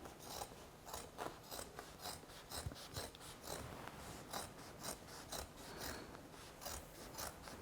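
Scissors cutting through thick Pendleton wool coat fabric: a rapid run of rough, crunching snips in a steady rhythm, close and continuous for several seconds, with no talking.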